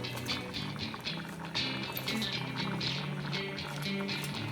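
Thai sour turmeric soup with fish at a steady boil, a continuous soft bubbling and simmering texture running evenly throughout without pause.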